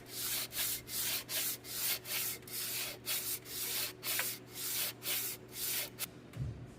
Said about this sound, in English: Block sanding the deck,